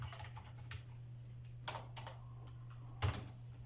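Light typing on a computer keyboard while entering data, sparse soft key clicks with a few sharper taps, over a low steady electrical hum.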